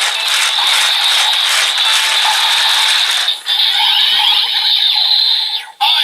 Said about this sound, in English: You have 2 different confirmation sounds, one coming from the belt and the dragon itself.